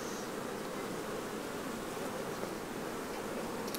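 Honey bees buzz steadily at an opened hive, a dense, continuous hum close by that stays even throughout with no voices.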